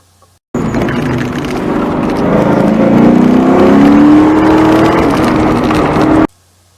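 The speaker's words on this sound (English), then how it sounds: "I can get on the throttle earlier, which means fast out" A Ford Mustang accelerating hard on an autocross course, its engine note climbing in one loud, sustained rising drone that starts abruptly and cuts off after about six seconds.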